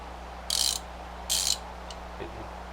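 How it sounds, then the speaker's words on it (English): Ratcheting handle from a Toolant tap and die set gives two short bursts of rapid clicking, close and fairly quiet, followed by a faint click over a low steady hum. "you got your part for your tap and die that ratchets"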